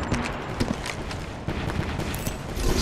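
Gunfire from the video game Apex Legends, likely the knuckle busters, pops in quick irregular shots amid match noise, fairly faint and clustered over a few seconds.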